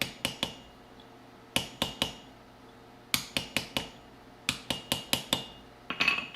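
A hammer striking metal while a bit is forged: sharp, ringing blows in quick bursts of two to five, separated by short pauses, close and loud against a quiet room, with no talk.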